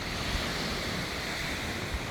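Ocean waves wash onto a beach in a steady, broad rushing wash, with wind buffeting the microphone throughout and no distinct breaks or voices.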